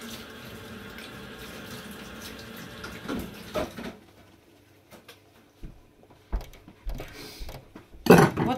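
Hot water runs from a kitchen tap in bursts of splashing and gushing, loudest near the end, with clattering handling noises between the flows and a broad background wash early on.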